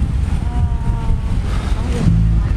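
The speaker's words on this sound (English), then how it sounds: "Boy, it's windy out." Strong wind buffets the microphone outdoors in Virginia near palm trees, a steady loud rumble with faint voices under it.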